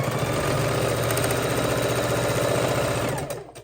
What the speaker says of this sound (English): And we are just chain stitching these.